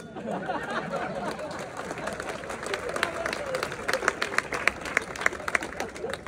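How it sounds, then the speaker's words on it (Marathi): Audience at a gathering with a Marathi spiritual leader breaking into applause, dense clapping that swells and grows sharper toward the end, mixed with crowd murmur. "परत तिसऱ्यांदा टाळ्या होऊ द्या"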